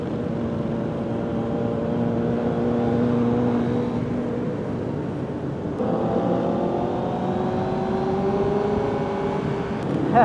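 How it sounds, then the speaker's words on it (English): A large group of motorcycles rolls slowly in second gear during a Day of the Dead group ride in Las Vegas, making a steady, layered engine drone that swells and shifts throughout with no talking. "A lot of bikes. So slow paced though. Second gear shit."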